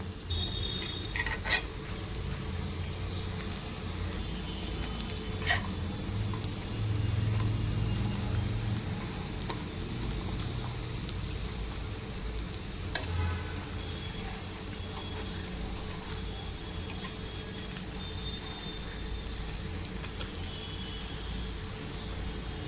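Appe fry in a multi-cavity appe pan and are turned one by one. A low, steady sizzle holds throughout, with a few faint taps and scrapes as each dumpling is flipped.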